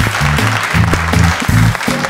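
Applause from a studio audience on a game show, a continuous patter of clapping that runs across the whole clip over a low, wavering musical tone.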